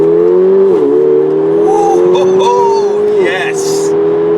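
A 420 bhp Mercedes-Benz CLA45 AMG in sport mode accelerates in a loud, steady in-cabin engine drone whose pitch climbs and dips through gear changes, and a man briefly exclaims over it.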